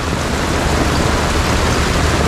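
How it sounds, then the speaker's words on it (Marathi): Rainwater rushes through a street during a fierce storm in Mumbai, a dense, loud, unbroken wash of water noise with no talking. "पाणी बघा कसं वाहत आहे"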